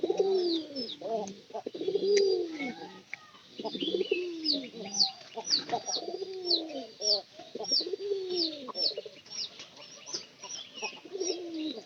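Pigeons cooing over and over in a series of close, rounded low calls, with faint chirping from other birds in the background.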